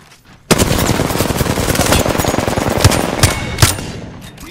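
Sustained automatic gunfire rips through a video game firefight, a loud rapid burst starting abruptly and rattling on continuously for several seconds, with a few heavier shots punching through near the end.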